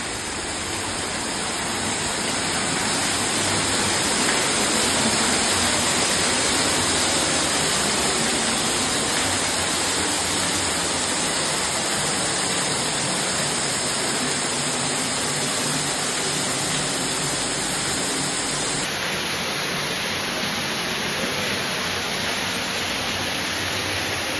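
A waterfall in a botanic garden roars as a steady, dense, broadband rush of falling water, loud and close throughout with no voices.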